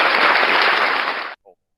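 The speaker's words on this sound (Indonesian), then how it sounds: "Tepuk tangannya kedengeran enggak Mas?" Short burst of loud, close applause in an online class, dense clapping that stops abruptly, followed by a brief faint sound.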